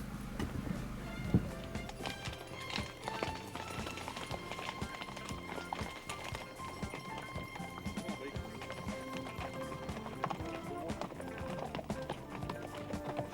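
Horses ridden by cowboys along a long-distance trail in Newfoundland clip-clop steadily at a walk, hoofbeats blending into a dense, continuous outdoor bed with occasional louder knocks and no talking.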